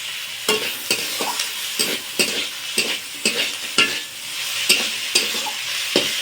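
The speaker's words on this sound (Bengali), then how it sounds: "এবার এর মধ্যে দিয়ে দিচ্ছি টমেটো কুচি আর লঙ্কা কুচি" Chopped tomato and green chilli stirred into browned onions frying in oil, a steady sizzle broken by regular spatula scrapes and taps about every half second, close and clear with no voices.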